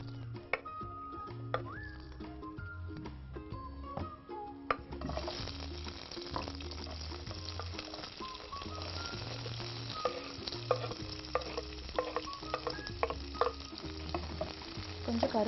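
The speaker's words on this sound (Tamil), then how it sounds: "அண்ட் இது எண்ணெய் காஞ்சிச்சு, நான் வந்து கொஞ்சம் சோம்பு சேர்த்துக்கணும்" Fennel seeds are dropped into hot oil, raising a steady crackling sizzle that runs continuously close by, with rhythmic background music and brief sharp ticks throughout.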